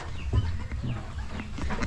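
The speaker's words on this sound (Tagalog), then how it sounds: "Umpisa na mangitlog yung mga alaga nating manok." Backyard laying hens clucking in short, low, close calls, a few soft bursts in quick succession with no talk over them.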